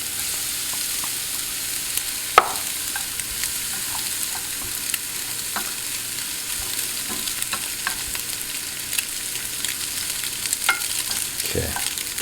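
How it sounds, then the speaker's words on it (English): Stuffed mushroom filling stirred in a hot pan, a continuous low sizzle broken by scattered spoon scrapes and clinks over several seconds, with no voices. "Mix them up a little bit. And turn the heat down just a bit. Just want to get them all mixed around."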